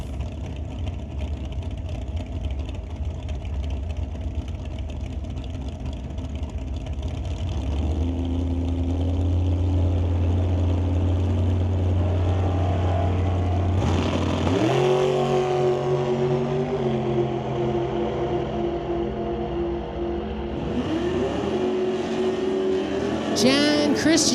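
Super Pro drag racing cars at Mission Raceway's Titanium Strip during eliminations: a distant engine drone swells into a loud, close roar as a car launches and revs hard, with a commentator's voice over the top.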